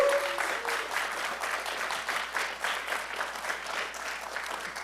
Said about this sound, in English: let's have a quick round of applause for the